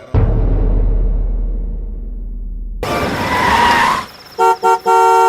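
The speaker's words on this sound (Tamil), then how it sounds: "மிட் நைட்ல வந்து ஹார்ன் அடிச்சிட்டு இருக்க பாரு" A car horn honks in a long blast near a running engine at midnight, then a few short toots follow in quick succession.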